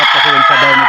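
A native Bisaya rooster crowing in one short, loud, close burst.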